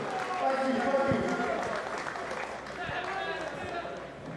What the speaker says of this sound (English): Round of applause for both